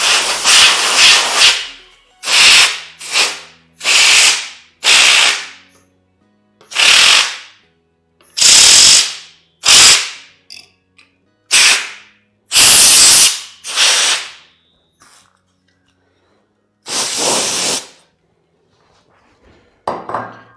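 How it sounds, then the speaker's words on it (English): A compressed air duster blasts dust out of an Xbox 360 console in sharp, loud hissing bursts, about a dozen spurts of one to two seconds each separated by brief pauses. "Let me actually just blow out some dust bunnies here."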